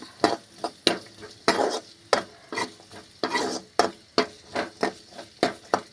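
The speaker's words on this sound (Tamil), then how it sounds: "வெங்காயம் வந்து நல்லா வணக்கிக்கலாம்ப்பா" Onions being sautéed and stirred in a pan for an egg dish, with a repeated, close scraping of the spatula about twice a second over a soft sizzle.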